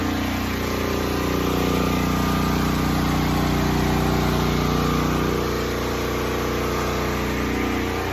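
A 12,000-watt portable generator runs outdoors powering a house. Its engine drones loud and steady nearby, with a constant hum and no pauses.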